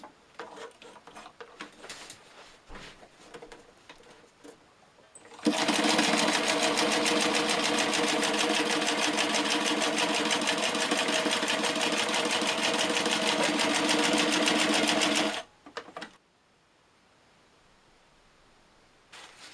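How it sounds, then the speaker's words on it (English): Sewing machine stitching a corner reinforcement patch onto a NATO issue IPK tarp, a loud steady rapid stitching run of about ten seconds, preceded and followed by quieter handling noises. "offer your reinforcement piece up so it lines up with the corner, and you're going to sew along"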